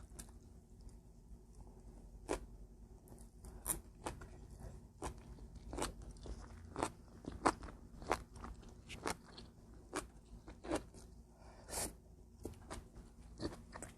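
Quiet, close eating sounds from beef and bean sprout stir-fry with abalone porridge: scattered soft crunches, bites and moist chewing clicks at an irregular pace, with no talking.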